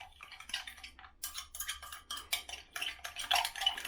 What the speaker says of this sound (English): Give it a little stir again.